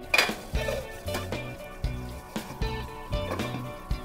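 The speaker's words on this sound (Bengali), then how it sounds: "এবার এটা ঢাকা চাপা দিয়ে দেবো 5 মিনিটের জন্য।" Metal pan lid set down and shifted on a cooking pan over a home stove, a few close clanks and clinks of metal cookware with faint sizzling beneath, no talk.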